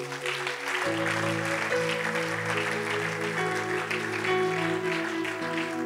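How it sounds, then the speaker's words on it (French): A church congregation clapping and cheering for the Lord, dense steady applause with voices raised over sustained organ or keyboard chords throughout. "Quelqu'un peut acclamer pour le Seigneur"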